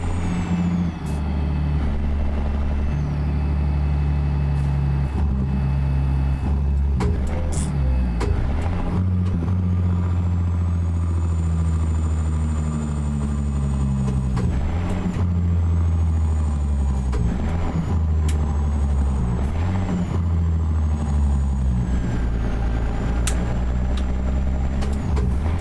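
ZeeMod Caterpillar 3406B diesel in a truck in American Truck Simulator drones under throttle, a deep steady engine note that rises and falls through several gear changes, with air-brake hisses and no talking.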